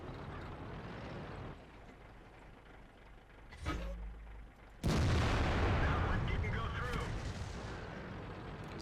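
A tank cannon firing in World of Tanks lands as a single heavy boom partway through, followed by loud, sustained rumbling game noise under steady engine drone.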